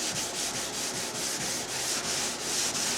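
Gel coat on a Carlson CVX-18 boat being hand sanded over a small 3M foam pad, a continuous close scratchy rub with a faint back-and-forth pulse, even and steady, no talking.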